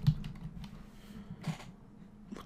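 Typing on a computer keyboard: soft, scattered key clicks come in a loose, uneven rhythm. They stay faint throughout, with no voices.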